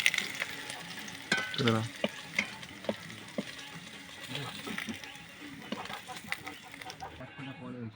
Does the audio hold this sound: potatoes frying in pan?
yes